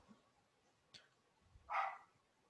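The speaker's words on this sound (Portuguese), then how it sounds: "esse cachorro latindo é minha visita" A single visiting dog barks once, a short sharp bark heard indoors at moderate distance, with a faint earlier yip and quiet room noise around it, no talking.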